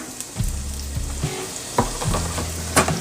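Minced garlic cloves dropped into hot oil in a pan give a loud, close crackling sizzle in short bursts, with soft clatter as the pan is handled.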